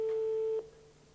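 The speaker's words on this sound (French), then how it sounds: "on compose le numéro de téléphone de l'heureux élu" A telephone line gives a single steady electronic tone as a number is dialled during a French television broadcast, holding for about half a second before cutting off to quiet line hiss.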